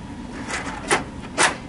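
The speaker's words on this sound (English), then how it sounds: "Grab your drum. Set it carefully back in place" An Oki 420 printer's drum is set back into place, giving a few soft plastic clunks and scrapes, the two firmest near the middle and end, fairly close and alone with no talk.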